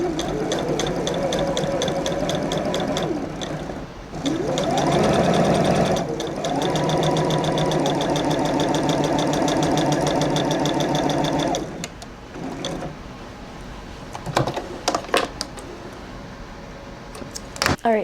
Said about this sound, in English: I will just sew straight line and then I'll go ahead and tie the knots at the end